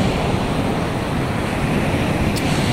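Surf breaks at Batu Pecah Beach in the late afternoon, a loud, continuous broadband rush of waves mixed with wind buffeting the microphone and a faint background hum.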